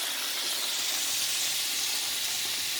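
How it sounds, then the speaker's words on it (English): Vegetables sauté in heated oil, giving a close, even hiss of sizzling that holds steady throughout without pauses. "I'm going to saute these vegetables."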